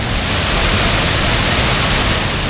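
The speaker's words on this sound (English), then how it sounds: "This waterfall is gushing, really, really powerful." Powerful waterfall in County Leitrim, Ireland, gushing as a loud, dense, unbroken roar that fills the whole clip with no other sounds.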